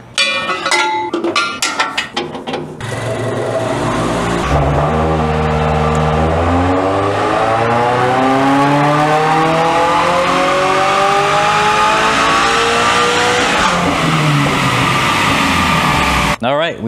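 A 2022-on car fitted with a Sprintex supercharger kit, running a 91 octane tune on a dyno, revs up in a long loud sweep through the gears, rising pitch falling at shifts, then drops off at the end.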